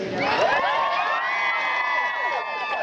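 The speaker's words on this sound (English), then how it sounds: "We want you to clap and cheer and scream." A live audience at a Walt Disney World celebration simulcast erupts in loud, sustained cheering, whooping and screaming with clapping mixed in, a dense wall of excited voices close up throughout.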